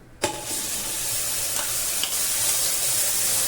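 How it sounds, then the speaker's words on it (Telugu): Onion paste dropped into hot oil for fish curry, a sharp onset after a brief quiet moment, then a loud continuous sizzle and hiss close by. "మొదట ఉల్లిపాయల పేస్ట్ అయితే వేసుకుందాం."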